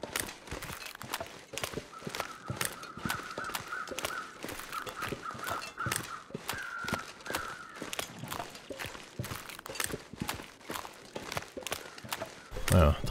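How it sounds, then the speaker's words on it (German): Crows caw repeatedly in The Long Dark, a harsh, fairly distant calling that carries on for several seconds among crunchy footsteps, while someone talks quietly over the scene. "Rechte Hand hört man krähen"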